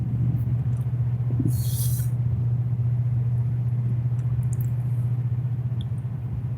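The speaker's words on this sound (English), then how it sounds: "you probably hear the barge coming up the river." A barge moving up the Mississippi River, heard from a riverbank, produces a steady, low engine drone that hums continuously throughout, with a faint brief hiss partway through.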